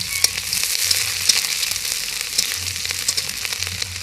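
Chopped onion frying in oil for a vegetable momo stuffing, crackling in a dense, close sizzle with sharp pops scattered throughout and faint low scraping of stirring, no voices.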